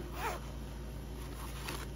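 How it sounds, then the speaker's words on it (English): The metal zipper on a creamy pink agenda cover is drawn open, one close, quiet rasping pull with a short scratch, in a still room. "Here, we'll open the zipper all the way."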